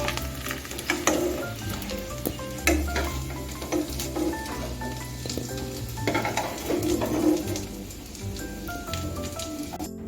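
Gati kochu taro pieces fry in oil over medium heat, a busy crackling sizzle with frequent sharp pops and spatters, close and continuous, with no speech.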